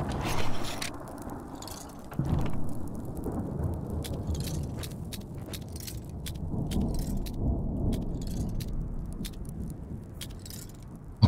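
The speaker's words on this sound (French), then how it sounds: "Encore une tempête?" Thunderstorm with rain in the video game Smalland: steady rainfall hisses with deep rolling thunder rumbles, and brief crackles are scattered throughout.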